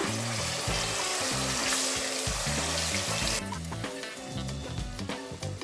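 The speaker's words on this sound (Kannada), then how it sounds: "ಆ ಚಿಕನ್ನ ಇದಕ್ಕೆ ಹಾಕೋಣ. ಸೇಮ್ ಆಯಿಲ್ಗೆ ಹಾಕಿಬಿಟ್ಟು ಸ್ವಲ್ಪ ಒಂದು 5 ಮಿನಿಟ್ಸ್ ಸಾಕು, ನಾವು ಅದನ್ನ ಫ್ರೈ ಮಾಡ್ಕೊಳ್ಳೋಣ." Marinated chicken pieces go into hot oil to fry, giving a loud, dense, hissing sizzle close by that eases slightly partway through, with no talk.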